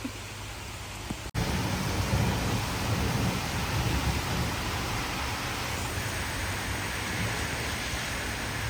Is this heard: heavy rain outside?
yes